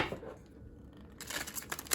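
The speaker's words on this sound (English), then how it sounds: "With the deck this large, with my size hands, an overhand shuffle is comfortable." A large oracle card deck being shuffled overhand by hand, quiet at first, then a quick burst of soft papery card riffles and flicks near the end, close up.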